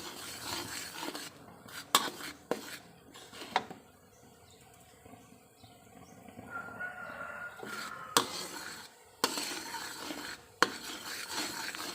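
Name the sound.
stirring sugar and tamarind water simmering on low heat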